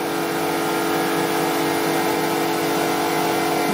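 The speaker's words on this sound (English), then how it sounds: "That's the compressor just come on." A workshop air compressor starts up and runs steadily, a loud, continuous motor drone with no pauses and no one talking.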